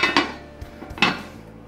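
A metal lid is set onto a cooking pot of tarragon chicken simmering over low heat, giving two quick close clanks and then a louder ringing clatter about a second later, up close with no talking.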